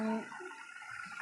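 Water left from washing marinated spices is poured into a pot of handi chicken with potatoes, making a short, close splashing gush that tapers off within about a second.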